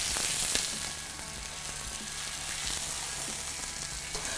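Steak sizzling steadily in a hot frying pan, a dense continuous crackle of fat with a few sharper pops near the start, close and moderately loud, with no talking.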